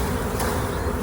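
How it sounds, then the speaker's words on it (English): Honeybees buzzing thickly and loudly after being shaken off a comb frame during a Bailey comb change, a dense continuous hum with no voices. "Just going to shake the bees in there."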